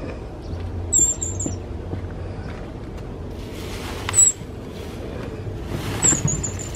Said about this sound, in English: I hear a bird, but I don't see it.